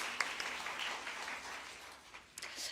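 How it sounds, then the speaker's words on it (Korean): Faint, sparse clapping from a church congregation during a bilingual Korean-Japanese service, thin and uneven with a few sharper claps near the end. "今日来て使えてくださる皆さんに拍手をしましょう"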